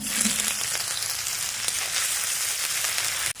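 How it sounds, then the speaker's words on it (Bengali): Grated ginger frying in hot mustard oil with panch phoron in a wok, a steady, loud, close sizzle that holds evenly throughout before a sudden drop at the end. "আদাটা একটু ভাজা ভাজা করে নিয়েছি"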